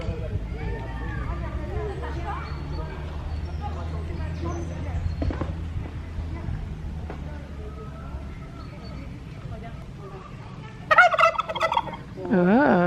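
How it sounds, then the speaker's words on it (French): A turkey gobbles in an outdoor animal setting, the call coming in a loud, rattling burst near the end after a stretch of low background murmur and distant voices. "J'ai toujours trouvé ça trop bizarre un dindon."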